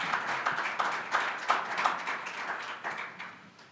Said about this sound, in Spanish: ¿Quieres darle un fuerte aplauso al resucitado?